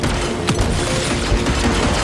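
Dense, continuous gunfire and booming blasts from the action game Evil West, loud and close, filling the whole stretch without pause.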